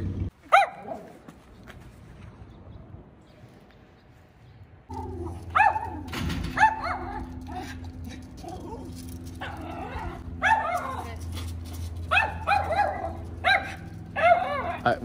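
Miniature schnauzer barking at another dog, repeated sharp close barks and yips in irregular bursts over a low background hum, with some whimpering early on.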